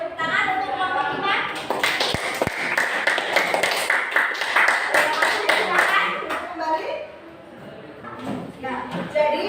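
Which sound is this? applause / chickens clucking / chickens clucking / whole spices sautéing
applause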